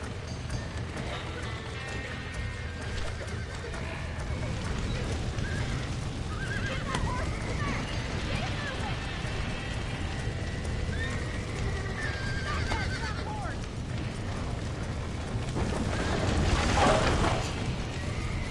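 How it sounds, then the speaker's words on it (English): Horses whinny and hooves clip-clop amid a busy outdoor game soundscape in Red Dead Redemption 2, with a louder burst of neighing and movement near the end over steady low rumble. "Now get the horses out!"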